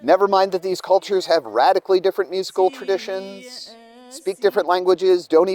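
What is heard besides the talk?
None of the usual background noises is heard.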